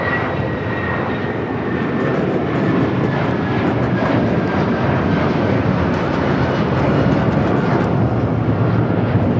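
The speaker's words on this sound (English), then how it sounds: "This is United Airlines 1069 taking off to Chicago on the 757-300." United Airlines Boeing 757-300 taking off from Los Angeles airport, a sustained, loud jet roar with a thin whine that builds slightly and stays steady.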